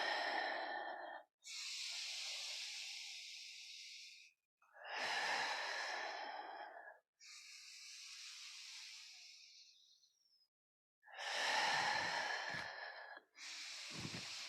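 Deep, audible exhales during a yoga session focused on legs and back, several long breathy sighs alternating with quieter airy inhales, close and isolated with gaps of silence between.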